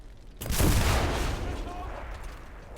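Anti-tank rifle fire at a tank in a video game practice mode: one loud, close blast that swells and then slowly rolls away into a lingering rumble.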